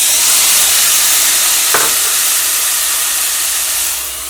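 Fresh peas and corn hit a hot frying pan, and a loud, steady hiss of sizzling holds close throughout, with one brief clink partway through and a slight fade at the end.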